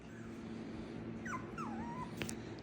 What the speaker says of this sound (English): My dogs are excited that I am putting things together.